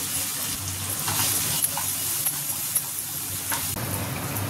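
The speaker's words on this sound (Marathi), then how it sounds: "आपले मसाले छान भाजून झालेले आहेत व छान तेल पण सुटले त्याला" Ginger-garlic paste, red chilli powder and spices frying in oil for kapura masala. A continuous low sizzle runs throughout, with a few faint clicks and scrapes and no voices.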